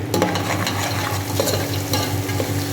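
Small pieces of ginger are stirred in a pan while upma is cooked, giving a close sizzle with a rhythmic scraping of the spoon and no talking.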